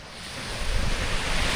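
Pacific Ocean surf rolling onto the white sand of Kāʻanapali beach on Maui, a steady broadband wash that swells louder partway through, with some wind buffeting the microphone and no voices.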